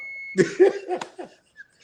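A steady electronic beep tone holds for a moment, then cuts off as voices and a laugh break in nearby.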